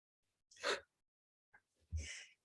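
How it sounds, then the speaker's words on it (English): A single person sneezes, with a sharp inhaled gasp followed by a loud burst, heard close and alone in a quiet room. "oh, I'm going to sneeze, sorry."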